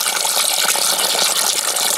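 Water poured out for laying hens, a loud, close, continuous splashing gush that runs steadily without pause and without talk.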